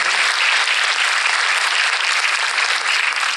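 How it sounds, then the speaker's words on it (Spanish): Steady, loud applause fills a lecture hall for Rosa Emma Loera de Cantú, a dense unbroken wash of many hands clapping together at an even level throughout. "pido un aplauso"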